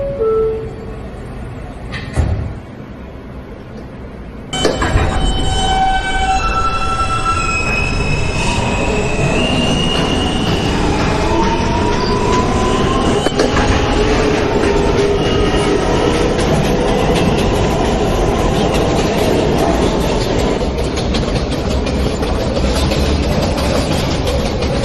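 A Manhattan-bound J local subway train pulls away after a brief quiet spell, a loud steady rumble of wheels and car noise building and holding, with squealing tones rising and falling over the din.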